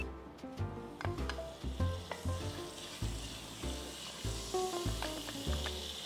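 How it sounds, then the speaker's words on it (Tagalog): Butter sizzles in a wok with a continuous bright frying hiss, while pitched musical tones play alongside. "You just put some butter."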